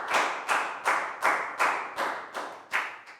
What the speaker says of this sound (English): And round of applause for everyone